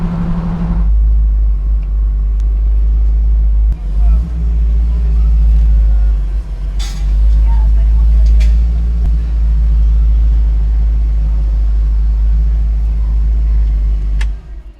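An ECD-restored 1967 Ford Mustang is on the move, its engine producing a loud, continuous deep rumble that swells and eases slightly as it drives, with no talking.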